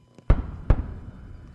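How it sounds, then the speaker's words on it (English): Twin sonic booms of a returning Space Shuttle orbiter over the Kennedy Space Center: two sharp, loud thuds about half a second apart, each trailing off into a rumbling decay, with no talk. "those twin sonic booms that they always hear at the Kennedy Space Center when an orbiter was coming home"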